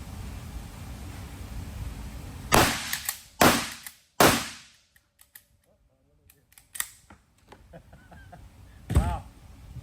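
A shotgun fires three loud, close blasts about a second apart, each with a decaying echo, then there is a quieter stretch with small clicks and one more loud report near the end.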